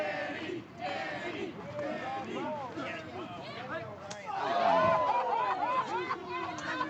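A pro wrestling crowd at a New Texas Pro Wrestling show roars and chants throughout, with a loud swell of cheering near the end while a commentator talks over the noise.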